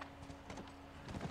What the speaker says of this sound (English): Good horsey.